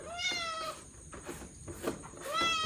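A cat meows twice, a drawn-out tonal cry at the start and another near the end, close by over a noisy background.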